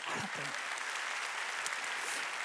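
A church congregation at Sunday worship breaks into steady applause, a dense wash of clapping heard at some distance, with a short voice fragment at the start.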